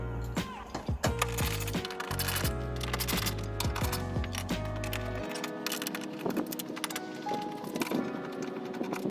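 A T30 Torx driver works bumper bolts loose on a 2010 Seat Leon Cupra R, giving close, sharp metallic clicks and a quick ratcheting burst early on, then lighter scrapes and taps against a steady low hum.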